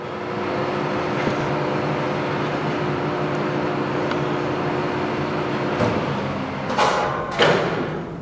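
A Kingston HD 26 by 90 gap bed lathe runs at low speed with a steady mechanical hum and whirr, close and even, with a few thumps and brief bursts of noise toward the end.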